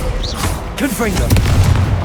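Confringo blasting curse exploding in Hogwarts Legacy, a deep booming burst with rumbling low end, heard under a character's voice shouting the spell.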